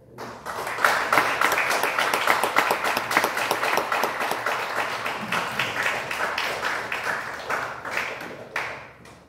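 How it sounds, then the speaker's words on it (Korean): Audience applause at a book launch celebration for a doctoral forum leader, loud sustained clapping from a large crowd lasting several seconds before tapering off at the end. "박수로 한번 크게"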